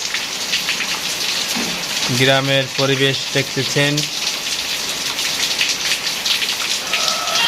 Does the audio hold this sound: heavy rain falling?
yes